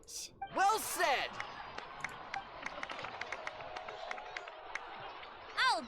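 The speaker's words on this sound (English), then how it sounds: "So, please give another round of applause for them." A crowd in a Genshin Impact cutscene in Natlan cheers and applauds steadily at moderate volume beneath and between spoken voices, with short vocal shouts rising over the continuous clapping wash.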